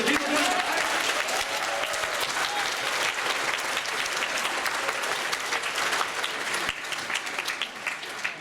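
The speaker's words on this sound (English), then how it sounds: "Can I have a huge round of applause for the people who..." At a PaizoCon gaming convention banquet, the room erupts in long, full applause, a dense crowd clapping steadily and loudly for over eight seconds with a faint voice briefly surfacing beneath.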